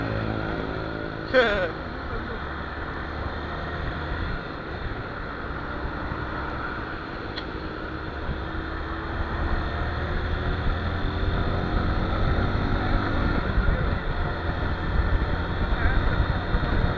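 A Honda Bros 160 motorcycle engine drones steadily during a top-speed run, building gradually in loudness as it rides along, with wind and road noise mixed in.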